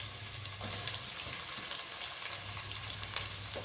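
Sliced onions fry in hot oil for chicken biryani, a close, steady sizzle with a few stirring clatters and a low hum beneath, no voices.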